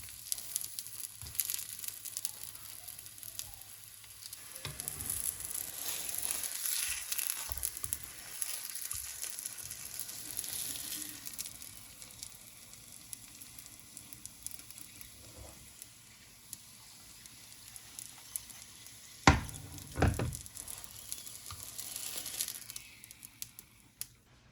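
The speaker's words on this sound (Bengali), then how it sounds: "আর এভাবেই আমি সবগুলো ক্রেপ হালকা তেলে ভেজে নিব।" Chicken crepes fry in a little oil with a steady, bright sizzle and crackle. Occasional crinkling scrapes sit on top, and a couple of sharper clatters stand out near the end.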